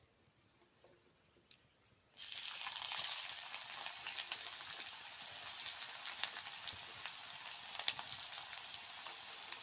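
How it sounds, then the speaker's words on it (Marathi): After a quiet moment, a loud sizzle bursts out as onion hits hot oil in a pan over a wood fire, then keeps crackling steadily. "कढईमध्ये आपलं तेल गरम झालेलं आहे. यामध्ये आता आपण कांदा घालू."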